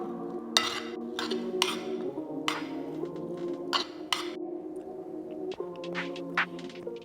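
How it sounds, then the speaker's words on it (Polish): A utensil stirs tofu with olive oil, sweet paprika, onion powder and fennel seeds in a pan for vegan shakshuka, making scattered metallic clinks and scrapes against the pan at an uneven pace. "Teraz dokładnie wszystko mieszam."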